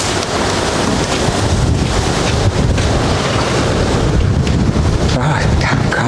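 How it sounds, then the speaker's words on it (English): Strong wind roars and buffets the microphone continuously, mixed with the wash of water, loud and unbroken throughout, in Manchester, Jamaica after Hurricane Melissa. "Boy, very windy still, man."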